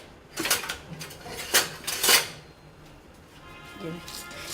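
Whole spices, including black cardamom, clatter and scrape against a hot pan as they are stirred for dry roasting, a few sharp metallic clinks in quick succession over quiet background.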